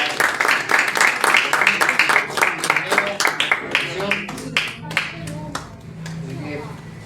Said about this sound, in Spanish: Pedimos ahí con un fuerte aplauso a los niños